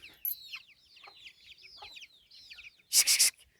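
Several chickens cluck and chirp in quick overlapping bursts, close by, ending in a short loud scuffling flurry.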